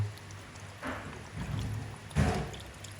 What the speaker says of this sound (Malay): Okey, seterusnya kita masukkan air asam jawa.